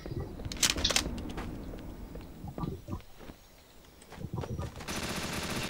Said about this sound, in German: Ich höre deine Waffe.